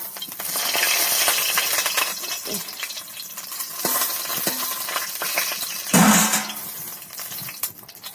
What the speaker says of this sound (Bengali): কালো জিরের ফোড়ন সঙ্গে দুটো তেজপাতা